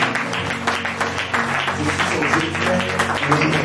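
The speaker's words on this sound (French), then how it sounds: "Acclamez d'abord l'homme de Dieu." A church congregation applauds the man of God, with loud, sustained clapping from a crowd and voices mixed in throughout.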